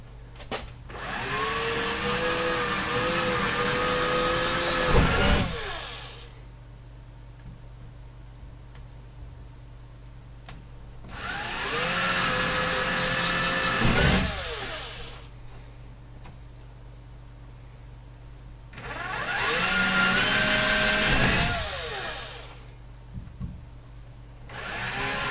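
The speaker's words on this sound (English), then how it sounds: "So that should be the last holes I drill this live stream for plaster." A power drill boring holes into plaster in three separate bursts of several seconds each, separated by near-silent pauses, loud and close with a whining motor tone.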